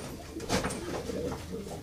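Pigeons of a unique breed, fitted with little bells, coo softly at close range in their loft, with a few low throaty calls over a faint background hum.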